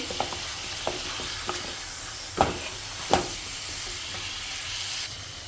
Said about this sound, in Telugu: ఆయిల్ హీట్ అయిన తర్వాత చికెన్ పీసెస్ వేసుకోవాలన్నమాట.